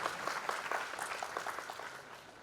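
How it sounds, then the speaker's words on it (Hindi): A crowd claps in steady applause welcoming a speaker at a university foundation day ceremony in Raipur, fairly dense and fading slightly toward the end. "जोरदार तालियों से स्वागत।"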